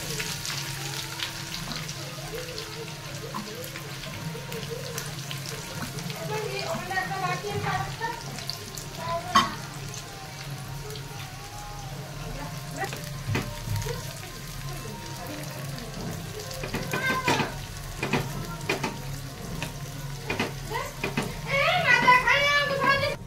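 Two medium onions frying in hot oil for birista, a steady close sizzle with occasional bubbling bursts and clinks of a utensil, while a voice talks over it at times.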